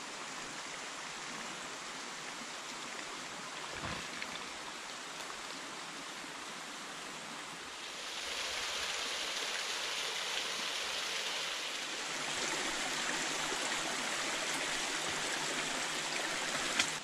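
A Smoky Mountains creek rushes steadily through the woods near a junction with another creek, a continuous broadband wash of flowing water that swells louder midway.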